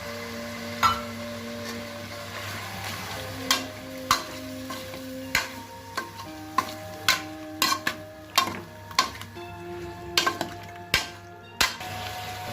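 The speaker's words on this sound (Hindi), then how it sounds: "हम इसे पीसा हुआ मसाला डालेंगे, मसाला डाल को अच्छा से चलाएंगे।" Ground masala stirred into chicken curry in a pot: a low simmering sizzle with a regular series of sharp spoon knocks and scrapes against the pan, close and without speech.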